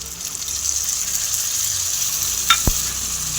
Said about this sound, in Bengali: মশলাটা এরকমভাবে কষে নেব।